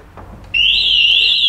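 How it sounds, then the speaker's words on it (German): A loud, steady electronic alarm tone from a Pandora Smart Pro V3 car alarm in a Smart 453 starts abruptly partway through as the car is jacked up, and holds at a high pitch, sounding close by. "haut er uns gleich den Alarm raus"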